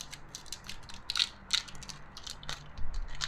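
Packet of sliced cheese being opened by hand, a quick series of close, crisp crinkles and small snapping clicks in irregular bursts, fairly quiet with no talking.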